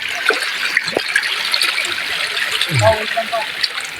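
Water trickles and gurgles steadily in the background, with a few faint splashes and low murmured voices nearby.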